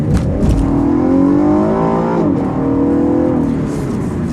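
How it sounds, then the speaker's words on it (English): A 2015 Cadillac ATS Coupe with a 3.6-liter V6 revs while driving, its engine note rising and falling through the gears, loud and close from inside the cabin. "The sound of this car is just amazing"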